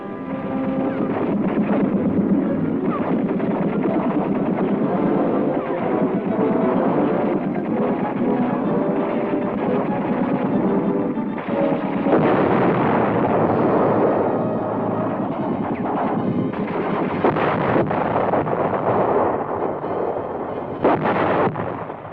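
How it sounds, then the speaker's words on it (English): M60 Patton tanks in a combat exercise under heavy fire from tanks and anti-tank guns, a dense continuous roar of rumbling blasts and gunfire, loud and unbroken, with no voices over it. "the tanks meet heavy fire from enemy tanks and anti-tank guns"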